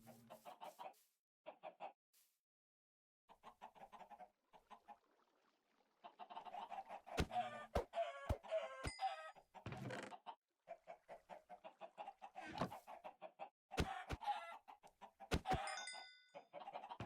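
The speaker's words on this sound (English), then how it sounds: "I guess I could kill some chickens." Minecraft chickens clucking in bursts, with short sharp clicks of in-game hits mixed in, moderately loud with brief pauses between calls.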